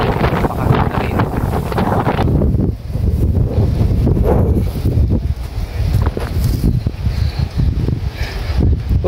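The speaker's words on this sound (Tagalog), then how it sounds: "mahangin dito sa taas" Strong gusts buffet the microphone in a continuous, heavy rumble, loud and close, with brief lulls between blasts, high up on Windang Island, Wollongong, Australia.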